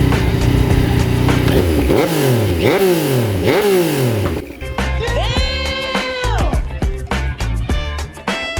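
A motorcycle fitted with a new muffler revs hard three times in rising and falling bursts, then drops to a burbling idle with a few more blips, loud and close.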